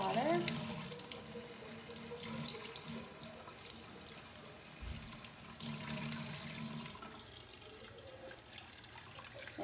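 Warm water runs steadily from a tap into a sink, a continuous close hiss and splash with faint voice-like sounds beneath it.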